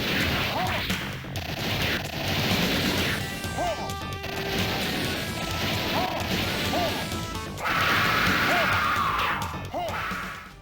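In the arcade game Warrior Blade, a boss fight against a Hydra brings repeated loud smashing hits as the heads are struck, layered over busy game music and effects at a steady rhythm.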